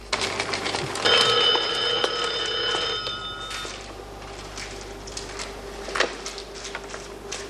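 A telephone bell rings in a steady trill for about three seconds, then stops, leaving a quiet room with faint background noise.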